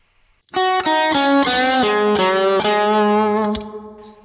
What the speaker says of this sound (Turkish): İşaret parmağımla 3. telin 5. perdesinden bu blues bendini yapıyorum.